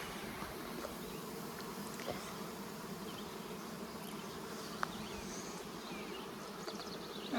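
Honey bees buzz around a hive frame during a queen-rearing check, a dense, steady hum of many insects close by and fairly quiet, with a soft tap or two.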